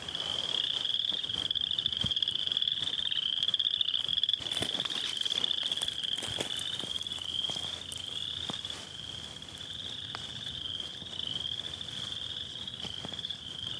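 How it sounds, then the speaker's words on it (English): Frogs from a garden pond call in a continuous high trilling chorus, steady and fairly close, with occasional knocks and rustles underneath. "Aren't the frog calls beautiful?"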